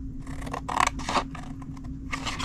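Scissors snipping paper along score lines while making a Christmas holly treat box, a few quick crisp cuts in short bursts, close and fairly quiet.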